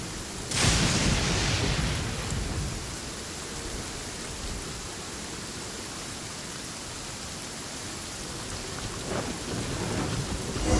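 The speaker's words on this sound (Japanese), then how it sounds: "雷が落ちたぞ。" Thunder crashes in Genshin Impact during a heavy rainstorm, with one loud close strike early on, steady hissing downpour throughout, and a second rumble near the end.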